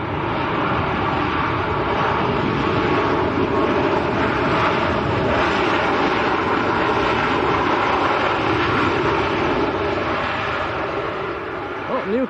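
A plane arriving at Manchester Airport, a loud, sustained roar of engines close by that holds steady throughout and fades slightly at the end.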